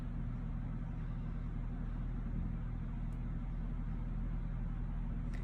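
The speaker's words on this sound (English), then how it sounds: "if you hear that outside, it's the garbage truck." A garbage truck idles and rumbles outside, a steady low engine drone running continuously and fairly quiet, muffled as if through walls.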